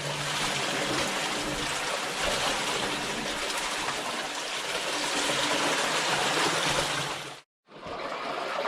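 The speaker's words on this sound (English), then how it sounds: "We're just letting that water drain through now." Water draining through a dug-out collapse in Bale Bank Mine near Greenhow, North Yorkshire, a loud continuous rushing gush close by that cuts out briefly near the end before resuming.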